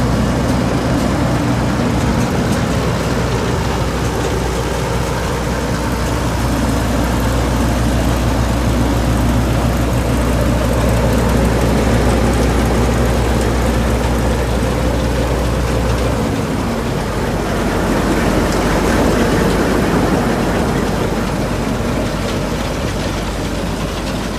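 An International 1460 combine runs steadily at close range, a smooth, even engine drone without clanking; a low hum drops away partway through while the broadband machine noise continues.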